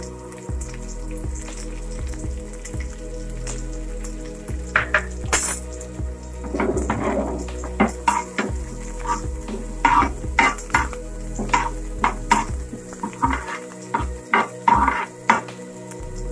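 Finely chopped small onion hits hot oil with cumin in a pan, a close sizzle and crackle under repeated spatula scrapes and taps against the pan, no talking.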